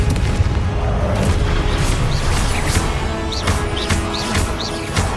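Confringo spell blasts erupt in a Hogwarts Legacy fight, giving a dense, loud, rumbling boom with crashing impacts that continue for several seconds, plus faint high chirps layered above.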